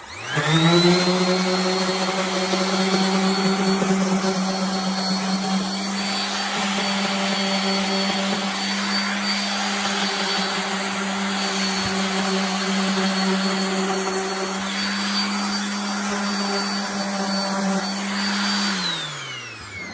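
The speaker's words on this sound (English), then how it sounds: "along these edges right here, your orbital sander works real nice" An orbital sander runs along the edges of kitchen cabinets, a loud, steady, close motor whine with a strong buzzing hum that holds without a break for the whole stretch.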